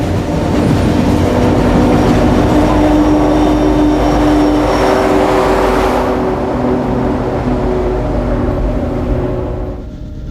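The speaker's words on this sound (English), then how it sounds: "the humming and howling noise tells us that dynamic brakes are indeed being utilized" The rear unit of a Union Pacific coal train rolls by close with dynamic brakes engaged, a loud sustained hum and howling whine over rumbling wheels that fades toward the end.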